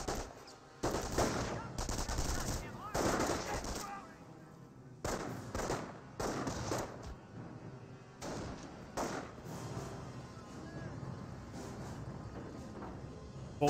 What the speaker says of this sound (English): MG42 getting overran by the riflemen.